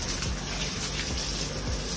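Water splashed and flicked from a hand outdoors, a steady broadband wash of watery splashing that runs continuously and fairly close throughout, with no voices.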